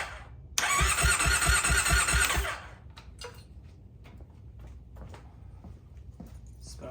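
A 2004–2007 Triumph Thruxton motorcycle engine cranks over on the starter at close range, a loud, rhythmic churning burst lasting about two seconds before cutting off, leaving quiet handling noises behind.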